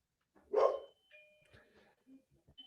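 A dog gives one sharp, fairly close bark, then a few faint trailing yips and household sounds.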